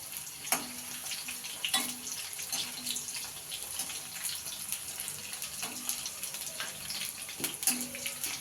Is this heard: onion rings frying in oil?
yes